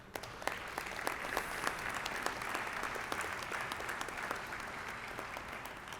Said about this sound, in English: You ought to give yourself a round of applause.